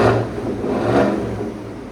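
A 2019 Cadillac Escalade 6.2L V8 fitted with a Corsa Sport cat-back exhaust gives a short, moderately loud throaty rumble that swells briefly and then eases off.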